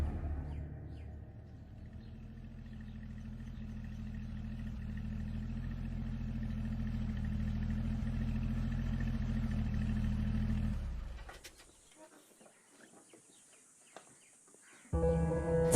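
A car engine runs with a steady low rumble for about eleven seconds, then cuts off abruptly, leaving quieter background noise with birds before a brief return of sound at the end.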